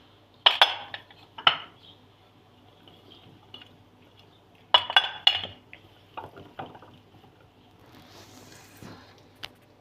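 Onions and potatoes dropped into a baking dish for oven-baked chicken with vegetables, giving sharp clinks and knocks against the dish in a few scattered bursts, with quiet gaps and a soft rustle near the end.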